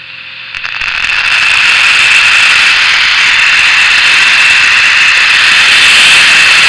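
Loud, steady hiss of static from an R442 military VHF radio receiver that rises quickly at the start and then holds constant, with no voices.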